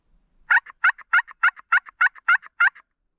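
Wild turkey gobbling during a hunt along the Missouri River shoreline: a rapid rattling run of about eight sharp, loud gobble notes with short echoing trailers, heard alone and fairly close.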